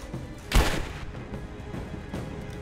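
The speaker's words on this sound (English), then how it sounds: "Where the hell is he shooting me from?" Enemy gunfire in the video game Rise of the Tomb Raider: a single loud, heavy shot with a booming thump, followed by fainter rumbling shots over a noisy game backdrop.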